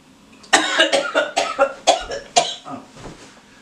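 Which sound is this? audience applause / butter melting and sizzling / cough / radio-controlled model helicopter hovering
cough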